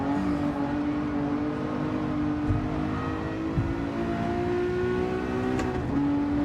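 Race car in Gran Turismo on a Tokyo circuit: a continuous, loud engine whine with a rising pitch as it accelerates, a few brief clicks and a gear change near the end.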